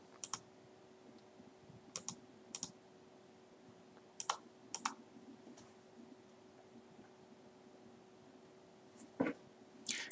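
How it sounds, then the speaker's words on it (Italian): A computer mouse clicks sharply and sparsely while walls are selected in ADA Designer design software. Single and paired clicks come over a quiet steady hum. "La selezione delle pareti si può effettuare anche tramite il mouse. Cliccandola, la si seleziona."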